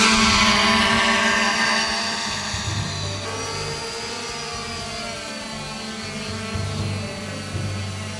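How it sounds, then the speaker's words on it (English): A 3D Robotics Iris Plus camera quadcopter hovers in flight, its motors giving a steady high whine with layered tones that shift slightly in pitch, fairly loud and continuous with no talking. "to actually get the motor spinning, we take the throttle stick and push it to the right and hold it there."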